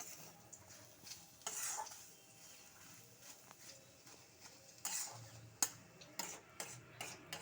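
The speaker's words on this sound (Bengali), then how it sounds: "ভালো করে নেড়ে নেবেন যাতে নিচে না বসে যায়।" Potato curry being stirred in a pan, quiet scraping and scattered clicks of a spoon against the metal with soft low sizzling in between, no voices.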